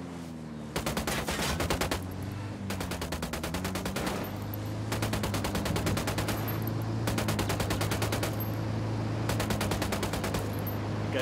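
Sustained bursts of squad automatic gunfire in Ghost Recon Wildlands, several rapid volleys separated by short pauses, loud and close over a steady low in-game drone, with no talk.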